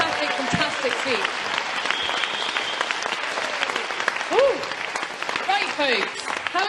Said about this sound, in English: Please continue giving us a round of applause as he leaves with a fantastic speech.